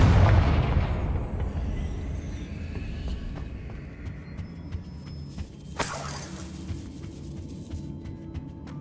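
A Confringo fire spell explodes in the video game Hogwarts Legacy: a heavy, loud boom with a rumbling tail that fades, then a second sharp crackling burst about six seconds in.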